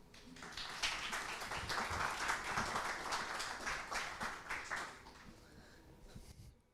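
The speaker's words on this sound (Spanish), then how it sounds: "el público que lo recibe con un aplauso" An audience greets speaker Andrés Esteban with applause at a Cátedra Lectores y Lecturas lecture, a burst of many hands clapping that swells quickly, holds steady, then tapers off, with no voices over it.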